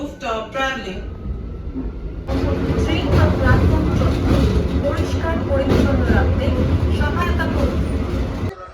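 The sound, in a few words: train passing at Panskura station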